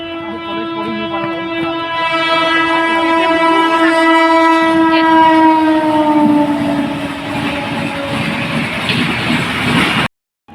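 A train passes close by, its loud, sustained horn sliding slightly downward in pitch as it goes by, over the heavy rumble and clatter of the cars, ending abruptly.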